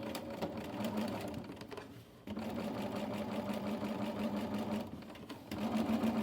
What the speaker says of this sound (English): Move your needle to the farthest right. And you want to start stitching.